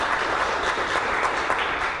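A studio audience at a live television game show applauding, dense sustained clapping from a high-energy crowd that stays loud and steady throughout without any talk over it.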